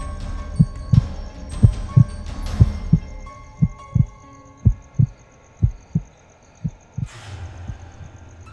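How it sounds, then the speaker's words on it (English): A heartbeat effect in an audio drama of Poe's The Tell-Tale Heart, with a steady, muffled, deep double thump repeating about twice a second, loud and alone over a low hum until a brief hiss near the end. "the heart beat on with a muffled sound"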